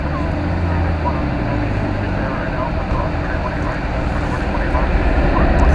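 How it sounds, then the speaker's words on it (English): A Boeing 777 jet passes at DFW Airport, its steady low engine roar continuous and building slightly toward the end, with a voice talking over it throughout. "I think that's a 777"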